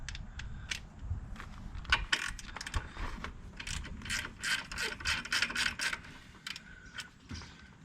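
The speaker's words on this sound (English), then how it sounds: "We'll get our ratchet." Ratchet wrench clicking in rapid bursts while working on a 1985 Chevrolet Camaro Z28 near the strut tower, close and fairly loud, with scattered metallic mechanical clatter and no talking.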